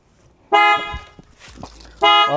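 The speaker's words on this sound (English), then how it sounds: "let's see if it will sound the alarm" Protect-X aftermarket alarm on a 2019-2025 Toyota RAV4 set off by jacking the vehicle, two loud harsh honking blasts separated by a short gap of faint handling noise, close by.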